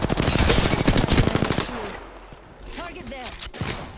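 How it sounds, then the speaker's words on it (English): Rapid automatic gunfire from an Apex Legends firefight rattles loud and close for about a second and a half, then breaks into scattered shots and a voice speaking. "They're shooting at me."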